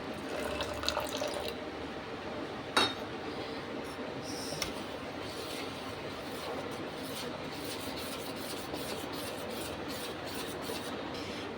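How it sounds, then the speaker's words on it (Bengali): A little water poured into homemade idli batter in a kitchen, a steady soft splashing stream running throughout with a brief clink near the start, no talk over it. "এইটার মধ্যে একটু জল দিয়ে, সামান্য একটু জল দেবো"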